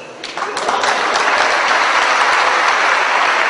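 Dense, sustained applause from an audience filling the hall, starting slightly softer and swelling quickly into a steady loud wash of clapping that holds to the end.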